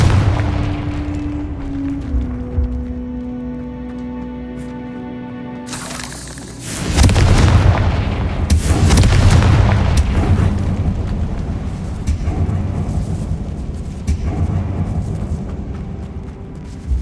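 Confringo spell blasts in Hogwarts Legacy, a loud burst of magical explosions erupting after a sustained tonal hum, followed by rumbling, crackling impacts that continue at close range with no talk.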